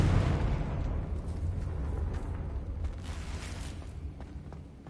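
Confringo blasting spell explosion in Hogwarts Legacy, a deep rumbling boom that fades out over a few seconds, loud and close with no talk.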